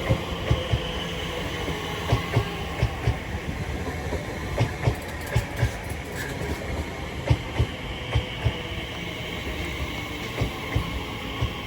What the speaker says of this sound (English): Now departing 3 minutes late will be the 15:35 Elizabeth line service to Abbey Wood.